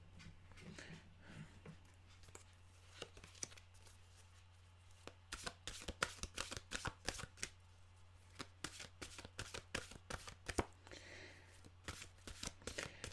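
Mantra cards shuffled in brisk, repeated riffles that grow busier midway through, fairly quiet and close, over a steady low electrical hum, with no talking.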